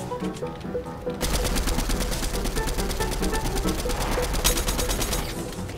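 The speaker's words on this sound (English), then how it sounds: "this gun shoots so quick" Fast automatic gunfire in Fortnite, a rapid, evenly spaced stream of loud shots firing almost continuously for several seconds after a short quieter lead-in, with no talk over it.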